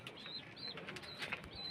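Pigeons on a small farm give faint, repeated high chirps and soft wing flutters, heard at a distance against a quiet background.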